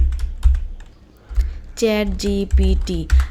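Someone typing on a computer keyboard, several soft, close keystroke clicks spaced irregularly, with a brief voiced tone partway through.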